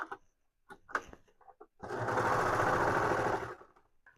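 A sewing machine stitches hoodie seams in a steady, close burst of rapid mechanical whirring lasting under two seconds, preceded by soft clicks and fabric handling.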